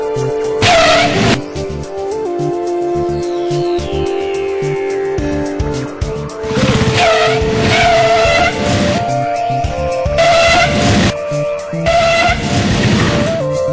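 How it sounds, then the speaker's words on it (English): Royal Enfield motorcycle on a scenic road test track for roadworthiness and brake checks, a steady engine drone with several louder revving passes and a falling whine as it runs by, loud and close throughout. "It goes through a road test in a beautiful scenic testing track for roadworthiness and brake efficiency."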